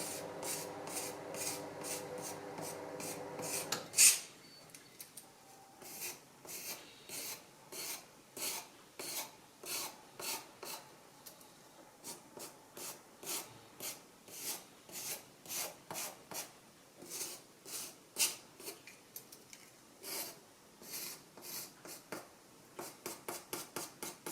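A sharpening stone is flattened on a Mafalo diamond lapping plate: a long rasping grind at first, then a rhythmic series of short scraping strokes, close and distinct.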